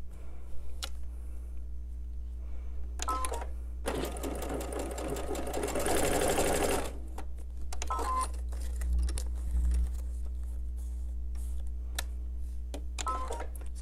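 A sewing machine chain-pieces quilt half-square triangles in a home quilt studio, running in one loud, steady burst of a few seconds between short taps and quieter stretches of motor hum.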